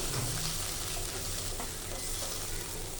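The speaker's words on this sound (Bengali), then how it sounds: "ফুটিয়ে নেব দুধটাকে।" Milk simmers and bubbles in a pan on the stove for a Bengali fish dish, a soft, steady sizzling and frothing heard up close and fairly quiet, with no voices.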